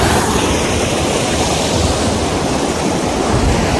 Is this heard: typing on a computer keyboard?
no